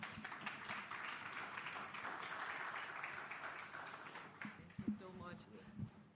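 Audience applause at a live mentorship event after a presentation, a steady broad clapping wash filling most of the stretch before thinning into scattered claps and a voice near the end.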